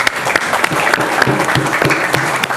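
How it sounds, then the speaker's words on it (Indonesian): Steady applause from an audience at a high school quick-answer quiz competition, dense continuous clapping filling the room without any speech over it. "Tepuk tangannya nggak apa-apa, lebih semangat lagi ya."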